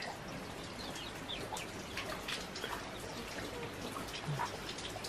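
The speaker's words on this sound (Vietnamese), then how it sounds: "Trời hôm nay mưa bẩn quá." Steady rain falling in a mountain village yard with a chicken coop, a dense even patter of drops on surfaces throughout, with faint bird or chicken sounds in the background.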